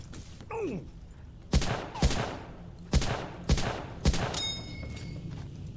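M1 Garand rifle fire in the Battlefield 1942 video game: five sharp, loud single shots spaced about half a second to a second apart, each with a short booming tail, after a brief vocal sound at the start.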